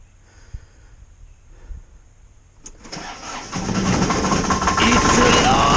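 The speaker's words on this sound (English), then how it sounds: "Hop on the old Ford CM222 3-cylinder diesel with the rotary broom here." An old Ford CM222 three-cylinder diesel tractor fitted with a rotary broom cranks and catches, rising into a loud, steady, close idle after a quiet start, with a voice speaking near the beginning.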